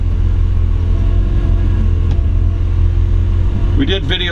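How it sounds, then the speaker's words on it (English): Steady low rumble of a 1955 Chevy Bel Air hardtop resto-mod with a four-barrel V8 rolling down the block, heard from inside, with a brief sharper sound near the end. "we're gonna take it for a little spin down the block"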